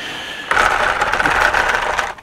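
Motor of a Tamiya Grasshopper 2 Black Edition RC car with a Super Stock RZ motor, cogging as it spins up: a loud, close, buzzing whine that holds for under two seconds before cutting out.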